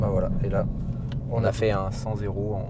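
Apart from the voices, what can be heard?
No distinct noise like a dog, phone or traffic.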